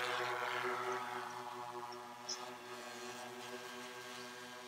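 A DJI M210 drone lifting off in freezing cold around 5 degrees Fahrenheit, its propellers giving a steady loud buzzing whine with strong harmonic hum that holds throughout, close by and alone.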